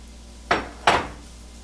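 Cabbage and onion mixture drops into a hot pan oiled with olive oil in two quick bursts, each a sharp clattering sizzle that fades over a fraction of a second, with no talk.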